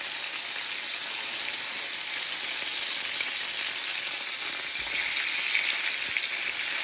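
Chicken frying in a covered pan on low heat, a steady, even sizzle and crackle that holds throughout, close by and alone.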